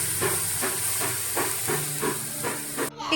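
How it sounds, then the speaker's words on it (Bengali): Water poured into dry-roasted semolina in a hot pan sets off a loud, steady steam hiss that pulses in short rhythmic bursts, then cuts off abruptly near the end. "এবার এর মধ্যে দিয়ে দেবো জল"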